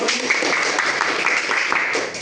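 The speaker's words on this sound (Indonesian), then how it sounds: "Oke, tepuk tangan untuk" A classroom of students applauds during a microteaching lesson, dense steady clapping filling the room for a couple of seconds, fairly loud and continuous without talk.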